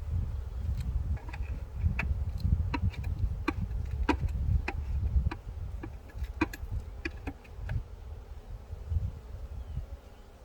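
Honeybees hum around a hive as it is closed, a low buzzing drone punctuated by many sharp little ticks and clicks, louder early and easing off.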